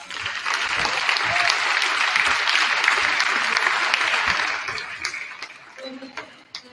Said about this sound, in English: Let's give all of our teams one more round of applause.